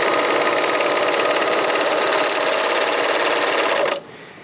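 A Janome AirThread 2000D serger runs at a steady high-speed whir while cutting off a thread tail, close and loud, then stops abruptly near the end.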